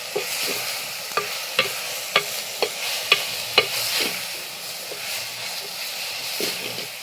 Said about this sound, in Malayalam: എല്ലാം കൂടി മിക്സാക്കി എടുക്കുക.